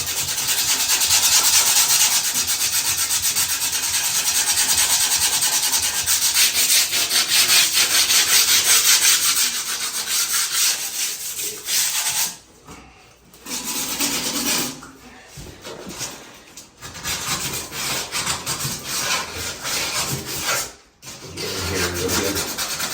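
A grinder strips paint off a bathtub during refinishing, with a loud, continuous abrasive rasp for about twelve seconds, then shorter broken bursts separated by brief pauses.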